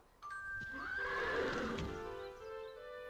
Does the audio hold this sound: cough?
no